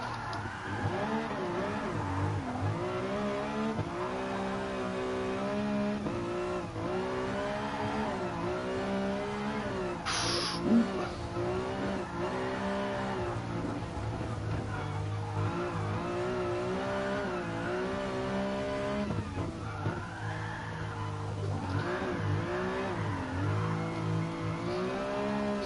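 A car in the GT Sport racing game on the Nordschleife drifts with its engine revving up and down continuously, the tires squealing through long slides, steady and loud throughout with no talk.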